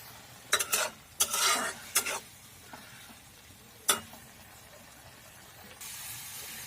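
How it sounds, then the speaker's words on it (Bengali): A spoon scraping and stirring sugar into a pineapple curry in a pot, a few quick separate strokes, fairly faint against a soft sizzle. "এখন ভালো করে মিক্স করে নেব।"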